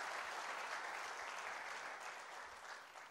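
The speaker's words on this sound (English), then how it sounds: "Come on, don't you have an applause for that?" A conference audience of district managers breaks into dense, sustained applause, a loud wash of clapping that holds steady and then eases slightly toward the end.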